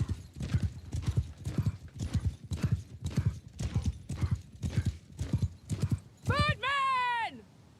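Horses gallop in a video game battle with mounted troops, a rapid, evenly paced clip-clop of hooves repeating close and clear, over shouted commands, before a horse lets out a high, wavering whinny near the end.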